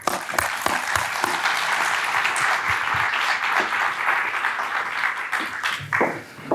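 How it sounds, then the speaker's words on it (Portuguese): An audience at a cultural talk event gives a guest sustained, steady applause, a dense wash of many hands clapping at close range throughout, with no talking. "Uma salva de palmas, por favor."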